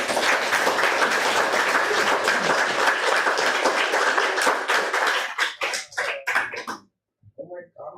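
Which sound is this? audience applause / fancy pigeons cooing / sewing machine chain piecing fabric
audience applause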